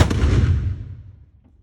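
A black powder cannon fires at Old Fort Jackson, South Carolina, set off by a friction primer on a lanyard: a single loud, deep boom that opens the clip and rolls away into a long fading rumble.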